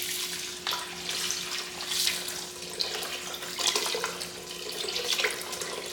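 Water pouring steadily into a container at home while baking, a continuous close splashing rush with a few louder surges over about six seconds, heard alone with no voices.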